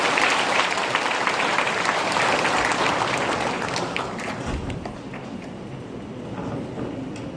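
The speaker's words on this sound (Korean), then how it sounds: "박수로 발표를 마무리하겠습니다" An audience at a Korean high school admissions presentation bursts into sustained, dense applause that stays loud for several seconds, then gradually thins and softens toward the end.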